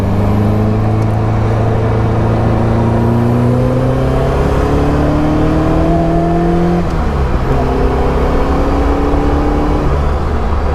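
A Caterham 7 360R engine with the roof off revs hard and climbs through the gears, loud and close with a rising whine, briefly dropping at a shift before pulling again.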